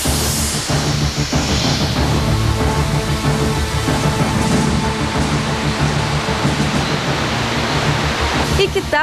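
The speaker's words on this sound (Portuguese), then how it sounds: "Uma queda d'água de 100 metros." A 100-metre waterfall at the Salto Morato nature reserve in Paraná, Brazil, roaring as a loud, steady broadband rush of falling water that stays dense and unbroken throughout, with no voices over it.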